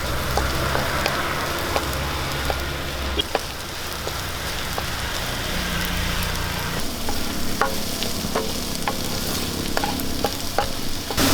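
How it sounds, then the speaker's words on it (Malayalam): Ginger garlic paste sautéing in a pan for a Kerala chicken roast, with a steady crackling sizzle throughout and scattered, distinct clicks and scrapes of the stirring spoon, up close. "ഇഞ്ചി വെളുത്തുള്ളി പേസ്റ്റ് ഇട്ട് കൊടുക്കാം നല്ലപോലെ ഇളക്കി ഒന്ന് വഴറ്റാം"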